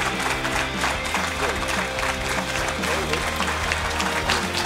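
An audience applauds the winning university team at an aviation ideas contest awards ceremony, with clapping blended under loud, steady music and voices.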